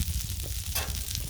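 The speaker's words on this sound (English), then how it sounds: "We got that sizzling." Gnocchi sizzle in garlic butter on a Blackstone griddle, a steady close crackle that holds at one level and flares briefly in the middle.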